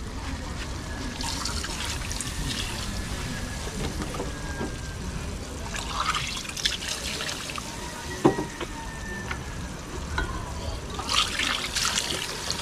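Water trickles and pours steadily into a cooking pot for several seconds, a continuous splashing wash with a few clinks of kitchenware, while people talk over it in the background.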